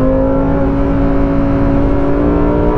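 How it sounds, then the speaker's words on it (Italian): A Lamborghini Huracán Performante accelerates hard out of a corner, engine revving loud, a strong rising growl holding close and steady for a few seconds. "Andiamo ad accelerare forte fuori da questa curva"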